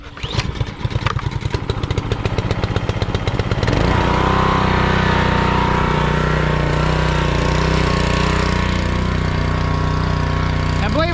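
A gas power washer about a year and a half old, running in cold air, putters unevenly at first and then settles into a loud, steady engine drone close by.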